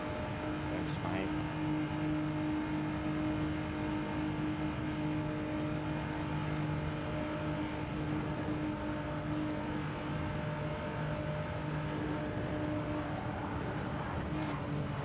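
A race car in Gran Turismo 7 holds a steady, continuous engine drone at speed on track, with someone talking over it throughout.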